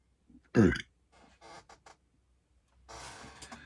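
A single loud, guttural burp near the mic, followed by some faint shuffling and scratchy noises.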